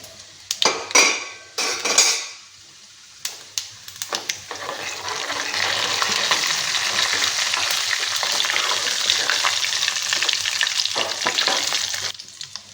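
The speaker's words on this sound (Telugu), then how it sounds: "అలాగే అవి వేగిపోయినాయి" Utensils clatter against a pan a few times, then urad dal, chana dal, mustard seeds and cumin fry in hot oil with a steady, close sizzling hiss and occasional stirring clinks.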